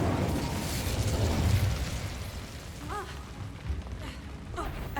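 An Incendio fire spell cast in a Harry Potter video game bursts out with a loud, rumbling whoosh of flame, fading into a crackling tail and a few bright chiming tones.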